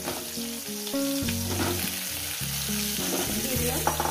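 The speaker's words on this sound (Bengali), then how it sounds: "তো বন্ধুরা এদিকে আমার আলু ভাজা হচ্ছে" Potatoes sizzling in hot oil on a medium gas flame for aloo dum, a steady, close frying hiss with occasional stirring, accompanied by background music.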